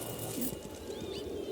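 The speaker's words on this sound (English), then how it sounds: "Birds, man, surely." Birds calling outdoors, with soft cooing like pigeons or doves and a few faint chirps over a low, steady background hum.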